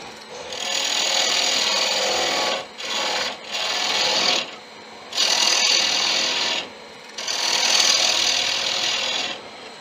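A gouge cuts a wooden ring on a lathe, the blank mounted in bowl orientation with the grain running across. The close, loud, steady rasping comes in about four sustained passes separated by short pauses, with no talking.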